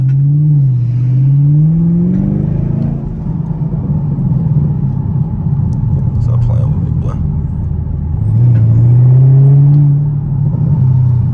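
A Camaro SS engine revs and rises in pitch, with a cluster of sharp crackling exhaust backfire pops midway; a voice talks over the engine.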